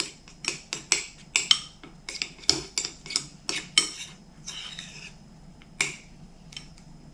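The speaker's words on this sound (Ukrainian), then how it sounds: "Розмішуємо його до однорідності" A utensil clinks repeatedly against a bowl while chocolate melting over a water bath is stirred, making a rapid series of sharp metallic taps that thin out toward the end, with no talking.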